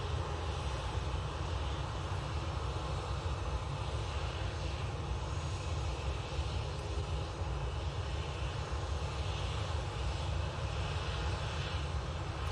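A Turkish Airlines airliner approaches Manchester Airport, its engines a faint, steady, distant drone holding evenly throughout without speech.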